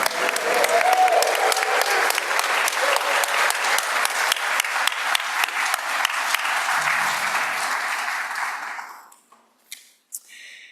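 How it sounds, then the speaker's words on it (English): A congregation at a church service applauds steadily and warmly for several seconds, then the clapping fades out, leaving a few scattered claps. "let's now give our new members a big round of applause"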